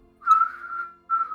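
A voice imitates a strange, machine-like whistle coming from a throat, sustaining one long tonal note, breaking briefly, then resuming for a shorter second note, close and fairly loud.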